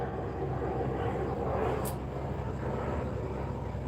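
An airplane flies overhead above an autumn garden. Its steady, distant drone swells slightly midway and fades without a break, with no talking.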